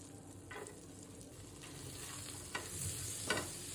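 Chopped garlic and ginger frying in butter for egg noodles, a faint steady sizzle with a few soft stirring scrapes and small clinks, no voices.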